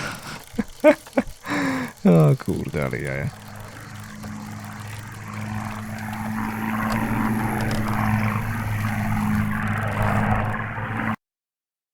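A man exclaims briefly in Polish, then a steady swishing, sweeping-like noise from bicycle riding in the horror video game Martha Is Dead continues over a low hum.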